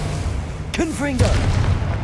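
A Confringo fire spell in Hogwarts Legacy lands with a short, heavy boom amid dense game noise, and a voice briefly speaks over the blast.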